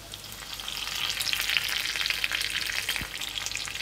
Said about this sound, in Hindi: करी पत्ता को हम थोड़ा सा तोड़ के डालेंगे